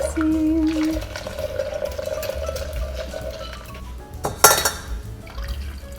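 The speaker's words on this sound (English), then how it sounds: "slightly lower heat, whisking constantly" Liquid sloshing as it is whisked steadily in a pan over lowered heat, with a low burner hum underneath and a brief louder clatter near the end.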